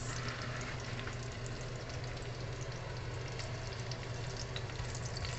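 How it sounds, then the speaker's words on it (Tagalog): Onions frying in avocado oil in a pan, a steady close sizzle with scattered crackling spatters and a low hum underneath, no talking. "Pangit naman itong avocado oil guys. Manalsik. Grabe yung talsik nito."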